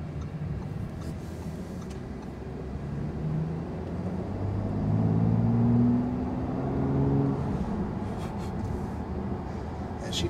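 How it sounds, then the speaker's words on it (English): 2019 Bentley GT W12 engine accelerating under partial throttle from inside the cabin, a smooth low drone swelling in the middle and easing off, heard faintly under road and wind noise. "That's only about maybe a third of the way into that throttle."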